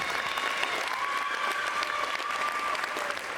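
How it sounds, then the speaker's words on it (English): Sustained applause from a crowd at a high school athletics signing day in Hallsville, dense and even clapping at steady volume for the full stretch. "just give one more round of applause to these student athletes"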